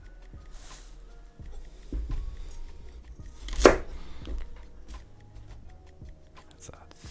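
A knife slices through beef for beef stroganoff on a cutting board, with a few scattered cuts and one sharper, louder chop in the middle, while a person talks quietly nearby.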